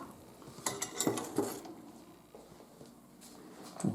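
Cooked pasta is strained from a pot, with close metallic clanks and knocks of the pot and cutlery followed by a softer watery patter, no talking.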